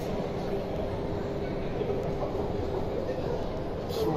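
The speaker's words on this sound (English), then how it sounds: "Ultra modern trains now, look" A steady, rumbling roar of a modern train passing nearby in York, continuous and fairly loud throughout with no distinct breaks.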